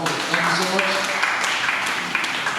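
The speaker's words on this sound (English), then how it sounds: "Please keep clapping as they come." An audience claps steadily as guests arrive at a home gathering, a moderate continuous patter of hands under a voice speaking over it.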